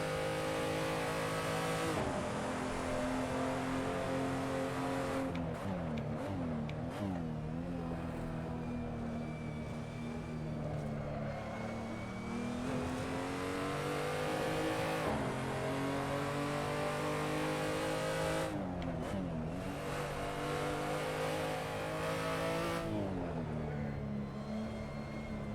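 Race car engine in a sim racing game, revving steadily with gear shifts and throttle lifts around a track, loud and continuous throughout with no talk.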